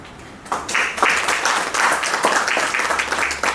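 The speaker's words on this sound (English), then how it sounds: "So big round of applause for them." Conference audience at an international conclave breaks into applause for panelists, a crisp burst of many hands clapping that starts suddenly and holds steady and fairly loud.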